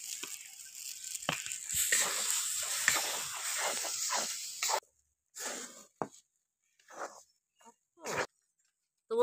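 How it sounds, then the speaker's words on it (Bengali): Masoor dal paste hitting cooked spice masala in a pan, a loud hissing sizzle for about five seconds that cuts off abruptly, followed by brief bursts of sound separated by silence. "এবারে আমি পেস্ট করা মুসুরির ডালটা দিয়ে দেবো এর মধ্যে।"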